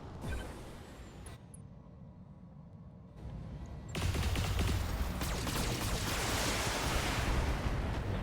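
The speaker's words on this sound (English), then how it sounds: "That missile went off somewhere different." A missile detonates in the BattleTech mech game: after a quieter stretch of low rumble, a loud explosive roar bursts in and holds as a sustained, crackling wash of debris and fire.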